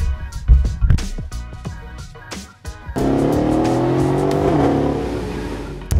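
A Mercedes AMG ML63 with a Stage 2 upgrade, tuned to 484 hp at all fours, revs in sharp bursts and then pulls away hard, a loud, close engine roar climbing steadily through the gears, with a brief squeal of tires.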